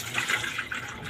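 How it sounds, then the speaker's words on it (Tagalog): Water pours steadily into a cooking pot of vegetables, a close, splashy, gurgling stream lasting about a second with no talk over it. "nilagyan ko siya ng tubig at ilagay ko tong parlang"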